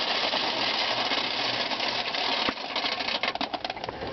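An IHC one-hole hand-crank corn sheller strips kernels from an ear of corn as the crank turns. It gives a close, continuous rattling and grinding churn, with busier clattering bursts in the second half and no voices.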